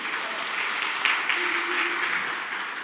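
A church audience breaks into steady applause, a dense wash of many clapping hands at moderate loudness, with a faint voice murmuring beneath it partway through.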